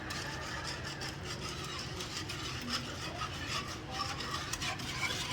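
Bread pudding mixture with vanilla extract is stirred in a pot, giving a steady, soft scraping and rubbing texture that runs without pause throughout at a quiet level.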